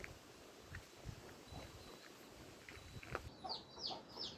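Faint chickens clucking and squawking at a distance on a small poultry farm, scattered irregular calls over quiet background noise, a few sharper chirps near the end.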